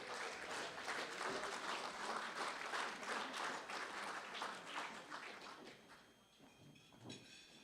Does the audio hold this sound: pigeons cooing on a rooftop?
no